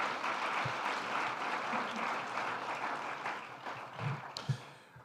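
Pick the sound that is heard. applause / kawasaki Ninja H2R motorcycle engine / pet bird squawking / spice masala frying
applause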